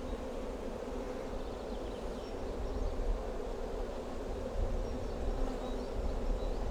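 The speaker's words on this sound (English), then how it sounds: "A lot of the bees are going to go back because it's in the same apiary." Honey bees buzzing steadily around an open hive in an apiary, a dense continuous drone close to the microphone with no voices.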